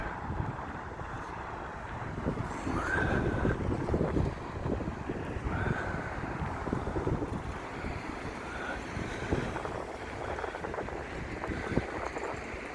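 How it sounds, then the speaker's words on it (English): Strong wind buffeting the microphone on a rainy seaside promenade in Blackpool, a loud continuous rumbling roar with gusty swells and faint higher tones, no voices. "I was walking into the wind then"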